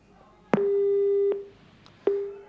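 A telephone busy tone sounds after a dropped call: a steady beep of under a second, a short gap, then the start of a second beep, clear and close with no voices.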